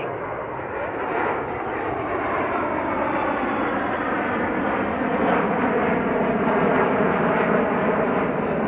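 A jet aircraft flying the pattern at Centennial Airport produces a loud, steady roar that holds without a break from start to finish.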